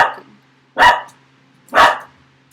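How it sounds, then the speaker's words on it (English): A dog barks nearby indoors: a trailing bark at the start, then two loud, sharp barks about a second apart, with quiet room tone between them. "sorry, my dog is barking."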